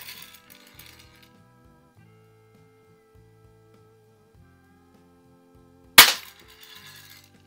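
A 1933 Daisy No. 195 Model 33 Buzz Barton Special BB gun fires a single sharp, loud crack near the end, standing out after a long stretch of quiet with faint background sounds.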